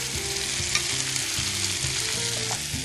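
Beans sizzling as they sauté in olive oil in a frying pan, a steady close crackle and hiss throughout with no talking.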